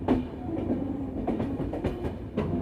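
The Darjeeling Mail train leaving Bolpur Shantiniketan station rumbles along at night with rhythmic wheel clatter and rail thumps, heard from inside the carriage at moderate, steady volume.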